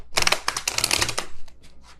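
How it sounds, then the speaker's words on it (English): A thick deck of tarot cards riffles in quick, crisp bursts, with a dense run of flutters followed by a few shorter shuffles, close and fairly loud, with no speech. "This deck is too thick for me to shuffle easily."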